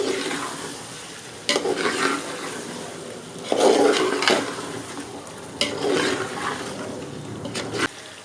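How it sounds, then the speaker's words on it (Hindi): Masala with onion and garlic-ginger paste is fried and stirred in a pan for a chicken aloo gosht dish, giving bursts of loud sizzling hiss separated by quieter stretches, with scraping as it is turned. "अब मैं ये मसाला भून रही हूँ।"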